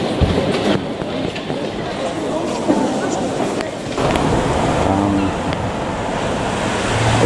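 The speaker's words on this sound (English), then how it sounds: "there goes the tram through the store, through the city centre." A tram rolls through Riga city centre near the opera, a loud close rumble and wheel noise that builds over several seconds amid city bustle, with people speaking.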